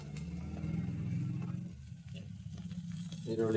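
Chopped onions sizzle loudly in a hot pan while frying for pasta, a steady close crackle and hiss throughout with faint stirring noises and no voices.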